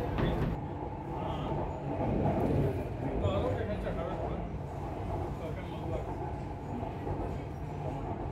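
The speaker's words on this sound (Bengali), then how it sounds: "দুর্দান্ত গতিতে ছুটে চলেছে আমাদের মেট্রো রেল এখন" Chennai Metro train running at speed between stations near Chennai International Airport, a steady loud rumble and rolling rail noise heard from inside the carriage throughout, with low voices faintly underneath.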